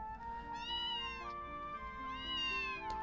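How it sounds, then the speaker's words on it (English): A cat meows twice in a visual novel scene, clear and close, each call a rising then falling tone over a soft, steady background. "The stray kept its distance, but looked up at me with a surprisingly affectionate meow"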